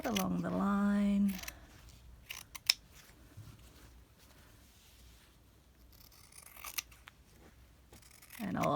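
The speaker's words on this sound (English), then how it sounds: "I'll just have to use my little scissors instead" Small scissors snip and cut through fabric along a marked line, a series of soft, close crisp cuts and rubbing sounds, with a voice talking at the start and end.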